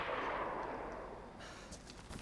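Faint, muffled gunfire from the video game DayZ crackles in quick bursts against a low background rumble, with a few sharp shots near the end.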